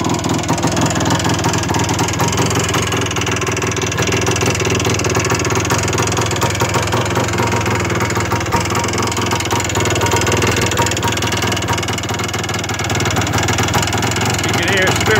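A 1977 Yamaha IT400D motorcycle engine idles nearby with a steady, slightly rattly mechanical chatter, loud and continuous for the whole stretch.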